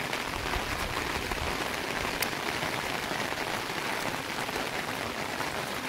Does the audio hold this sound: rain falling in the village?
yes